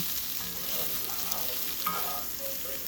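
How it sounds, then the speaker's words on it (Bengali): Potatoes fry in a pan with a constant close crackling sizzle and occasional soft stirring scrapes, with no talk. "আলু ভাজাটাই যে হয়ে এসছে"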